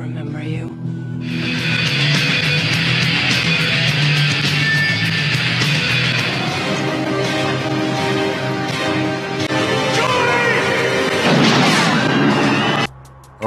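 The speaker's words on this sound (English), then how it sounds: "Okay, that bullet definitely hit somebody." Gunfire in the 1995 action film Bad Boys, dense cracks and booms under loud movie score and voices, continuous and close for most of the stretch.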